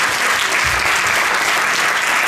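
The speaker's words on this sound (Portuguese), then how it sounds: "Um forte aplauso." An audience at a children's rights convention anniversary event claps loudly, a brief, dense and constant wash of applause from a large crowd with no talking over it.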